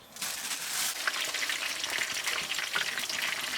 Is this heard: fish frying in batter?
yes